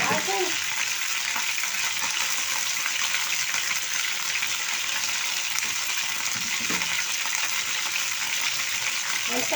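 Chicken sears in a hot pan, a loud, continuous sizzle and crackle up close that holds steady throughout, with faint occasional stirring beneath it.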